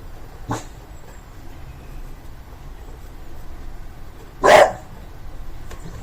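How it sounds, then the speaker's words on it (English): A single dog bark rings out sharply, loud and brief, against a quiet room background, with a fainter bark-like sound earlier. "Bloody dog."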